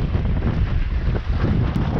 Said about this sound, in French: Il y a beaucoup de vent, hein.